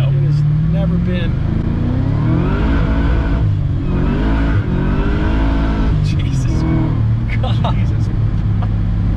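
A supercharged LS3 V8 in a BMW E39 roars under hard acceleration from inside the cabin, the engine note rising and shifting loudly and continuously, with a passenger briefly exclaiming over it.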